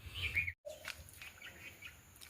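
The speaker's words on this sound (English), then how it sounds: "Look at these beautiful bulbul birds." Bulbul birds chirp in a garden with a few clear, quick whistled notes, fairly close but soft, followed by fainter calls against quiet outdoor background.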